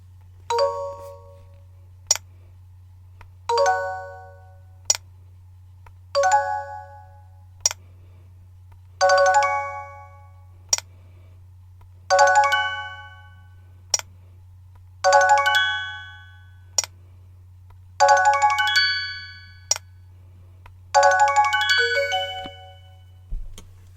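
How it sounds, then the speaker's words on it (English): Mario vs. Donkey Kong Mini-Land Mayhem sound of a mini entering the door: a chiming ding-dong jingle repeats eight times, each round longer and fuller than the last, over a steady low hum. "when you get a mini in the door, it'll have a sound effect, and every subsequently mini will have like a longer version of the sound effect"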